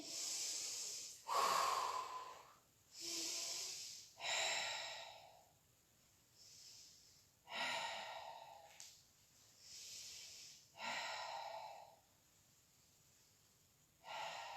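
Slow, deep Pilates breaths in and out, heard close and alone, each long airy inhale or exhale lasting a second or two and separated by short quiet pauses, repeating about eight times.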